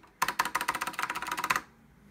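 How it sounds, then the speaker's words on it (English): Rapid typing on a Matias Tactile Pro keyboard for Mac produces a close, crisp burst of about fifteen clicky keystrokes in quick rhythm, then stops with no voices. "this is a cool keyboard"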